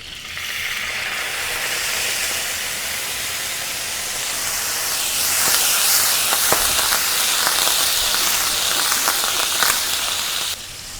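Wine hitting a hot pan of boneless chicken to deglaze it, a loud steady sizzle and hiss with crackling pops that swells midway and cuts off near the end, with no talking.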